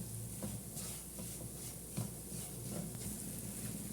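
Flour roasting over a low flame in a pan while being stirred, giving a soft, quiet sizzle with faint scraping strokes that repeat every half second or so.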